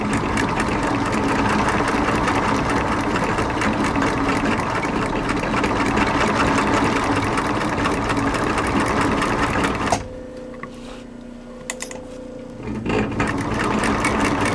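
A sewing machine stitching moccasin pieces together runs loud and fast with a steady mechanical whir for about ten seconds, stops briefly, then starts again, close and without talk.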